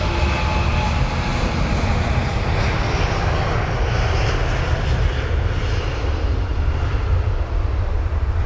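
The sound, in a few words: British Airways Boeing 787 Dreamliner jet aircraft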